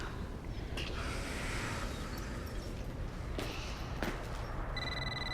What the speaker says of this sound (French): Oh, téléphone, tu veux-tu que je réponde?